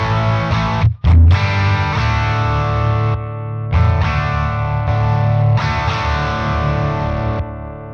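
An electric guitar played through a 1966 single-ended non-master Maton valve amp, boosted by an MXR Double Down pedal, rings out in loud, driven, harmonically rich chords with a short break and sustained notes, with no talking.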